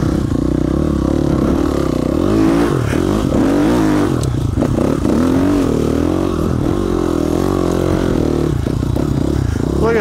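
A dirt bike engine revs hard as it climbs a hill on heavy clutch, a loud, close, wavering drone with throttle surges and occasional clatter of the terrain.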